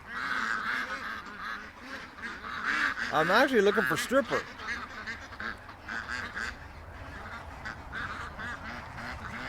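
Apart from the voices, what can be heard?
young ducks quacking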